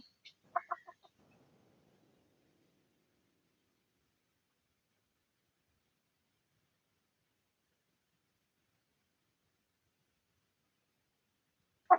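A few quick, soft chicken clucks come early, followed by a long stretch of near silence and one more brief cluck at the end.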